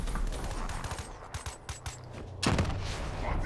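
Call of Duty gunfire in Gun Game mode: a string of quick, moderately loud shots, then a heavier burst of fire near the end.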